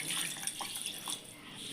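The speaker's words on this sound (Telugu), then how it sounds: "దీంట్లో కొద్దిగా వాటర్ వేసి" Water pours into a mixer jar for making homemade ghee from cream, a faint, brief splashing trickle heard alone.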